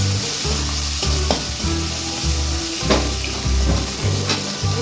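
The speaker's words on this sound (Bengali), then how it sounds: "লাল লঙ্কা গুঁড়ো দিলাম। হাফ চামচ নুন দিয়ে দিলাম। এবার এটাকে কষিয়ে দিচ্ছি।" Red chilli powder and salt sautéed in a hot pan as the base for a fish-head and greens dish, sizzling loudly and continuously with repeated scraping and stirring strokes, no voices.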